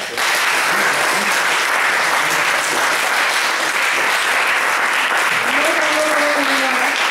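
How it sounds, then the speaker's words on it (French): A church congregation breaks into loud, sustained applause and cheering to acclaim the Lord, filling the room steadily throughout, with a few voices rising through the clapping. "Si tu es d'accord avec moi, acclame au Seigneur."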